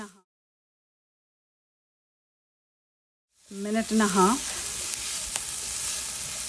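Ingredients for palak paneer sautéing in a hot pan, a sudden burst of sizzling and frying that starts after about three seconds of silence, with brief tonal squeaks as the food is stirred, then steady hiss to the end.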